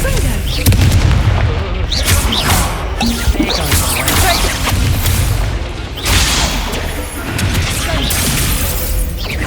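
Confringo spell blasts in the video game Hogwarts Legacy, a series of loud booming impacts and crashes in quick succession amid chaotic combat noise, with voices shouting in between.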